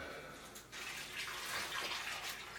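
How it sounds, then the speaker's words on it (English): Water pours into a plastic fish shipping bag, giving a soft, continuous splashing and trickling that stays fairly quiet from start to finish. "now when I'm putting water in the bag"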